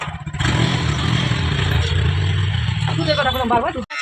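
A motorcycle rides along a road in the late afternoon with a child on board, its engine running steadily up close with a loud low rumble and clatter, then a rising rev near the end.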